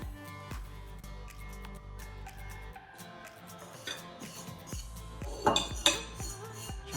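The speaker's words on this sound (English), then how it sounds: "they must have some way to filter out the noise of the forks hitting and spoons" Metal forks and spoons clink and scrape against dishes in a steady run of sharp taps, growing a little louder and busier toward the end.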